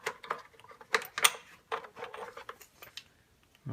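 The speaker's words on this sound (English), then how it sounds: "we're going to take our 8mm socket with an extension down here, and we're going to loosen this up" An 8mm socket on an extension loosens the battery hold-down wedge in a 2003-2004 Ford Mustang SVT Cobra, making a faint, irregular series of metallic ratchet clicks and taps with short gaps between them.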